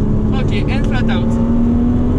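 A Porsche Cayman accelerates flat out in second gear on the Dijon race circuit, its engine droning steadily and loud from onboard, with an instructor's voice briefly over it.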